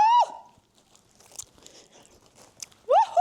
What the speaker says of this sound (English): Snack break. Want to hear that crunch?